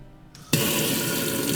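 Hot water gushes from a faucet into the sink of a Ram Promaster camper van. A faint hiss opens the clip before the flow suddenly bursts in at full strength and keeps pouring steadily and loudly.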